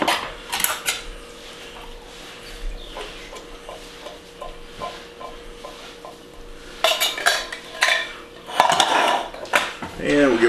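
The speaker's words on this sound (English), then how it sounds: "And we'll give it a stir." Chili being stirred in a pot, with a utensil scraping and clinking against the metal in repeated strokes, louder bursts of clattering toward the end, and a faint background hum.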